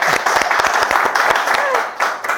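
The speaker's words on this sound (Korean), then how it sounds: "박수 한번 쳐주세요" Audience at a Cheonho 2-dong residents' general assembly claps for the host, a steady burst of dense hand claps filling the room, with a voice briefly over it.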